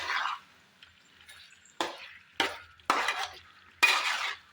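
Chicken roast is stirred in a pan in several distinct scraping strokes, close and fairly quiet, each followed by a soft sizzle in an otherwise quiet kitchen.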